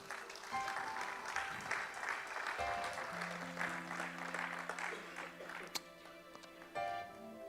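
A church congregation applauds the Lord with steady, sustained clapping, moderately distant, while a voice and sustained musical tones carry over it.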